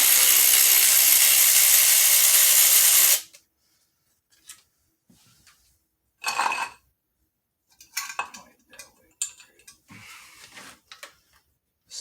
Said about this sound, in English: So I'm going to get my little screwdriver, cordless, with the socket that I need. Back these out of there.